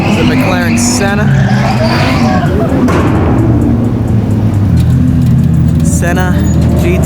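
A McLaren Senna sports car drives along a Los Angeles street at midnight, its loud engine roar and tire squeal filling the clip, with people talking over it.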